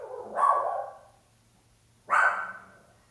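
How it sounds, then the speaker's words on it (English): A dog barks twice, each a loud, reverberant bark trailing off, separated by about a second and a half of quiet. "Please excuse my dog barking."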